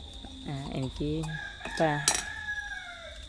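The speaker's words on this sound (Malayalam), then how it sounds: "കോഴികളാണെങ്കിൽ അവർക്കൊരു സമയമൊന്നുമില്ല കൂവുന്നതിന്" A rooster crows nearby with a few stretched, rising calls, followed by a clink of dishes and a faint steady hum behind.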